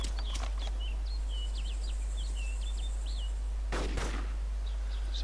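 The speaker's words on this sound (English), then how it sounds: "Do you hear the gunshots?" Gunfire in the video game DayZ, a couple of sharp distant-sounding shot bursts near the start and another around four seconds, set against a steady ambient bed with faint bird chirps.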